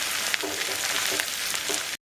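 Cauliflower for chilli gobi frying in hot oil, a close, dense crackling sizzle with small pops running steadily before cutting out abruptly near the end.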